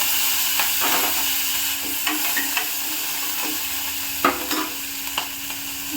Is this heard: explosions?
no